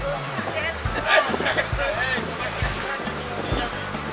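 Sea waves and rushing water roar continuously at Bakkhali, West Bengal, beneath a rhythmic low engine thump, with people talking over the noise.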